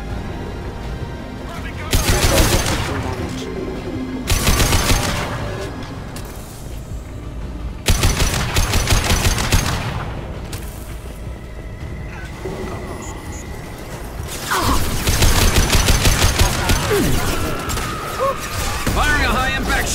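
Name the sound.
gunfire in the video game Mass Effect 2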